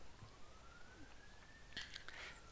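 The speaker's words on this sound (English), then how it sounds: "Oh boy, an ambulance." A faint wailing ambulance siren from the video game Spore, a thin rising tone sweeping slowly under a low background hum, with a brief burst of brighter chirps near the end.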